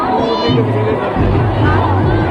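Dense crowd hubbub at a kalash yatra procession in Amravati, with women carrying decorated kalash pots amid traffic; steady loud babble of many voices close around, with some nearer speech.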